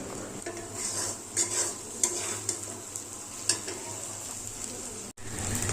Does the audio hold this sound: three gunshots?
no